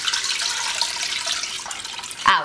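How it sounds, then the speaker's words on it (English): Water is poured steadily over rice to rinse it in a kitchen, a continuous splashing rush that swells slightly toward the end. "So first we're gonna rinse rice. Okay, just with water. Pour the water."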